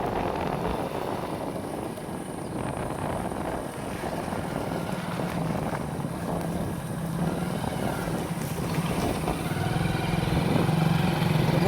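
A motorbike carrying a rider and a passenger drones steadily on the way home past a railway crossing, the engine hum and road noise continuous and fairly loud throughout.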